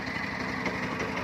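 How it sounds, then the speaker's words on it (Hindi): A small engine runs steadily at close range, powering the aeration system on a biofloc fish farm after a power cut, with a continuous buzzing drone and no pauses. "तो लास्ट ऑप्शन हमारे पास यही था कि हम इसको इंजन पे स्टार्ट कर देते हैं।"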